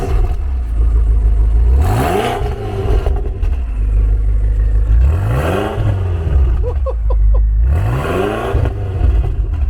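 A modified 1200hp BMW X6M engine revs in three loud, close bursts, each rising sharply in pitch and falling back to a deep rumbling idle between them.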